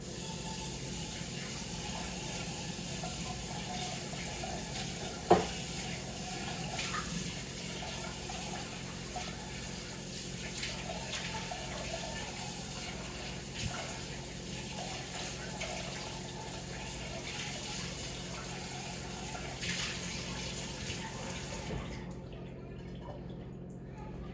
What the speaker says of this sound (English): So let me wash out my pan real quick.